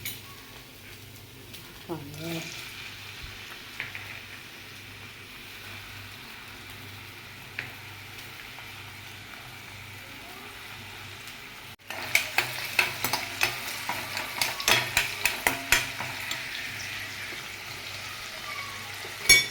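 Vegetables for Bhogi bhaji fry in oil in a pan. A quiet low sizzle with a few clinks grows into a loud, crackling spatter with rapid pops partway through.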